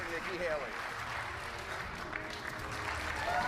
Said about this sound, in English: I thought no one was going to clap for a second.